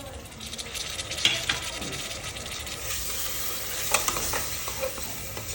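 Tomatoes, asafoetida and coriander sautéing in a pan for Maharashtrian dal varan, giving a steady, close sizzle throughout with scattered scraping and clinking from stirring.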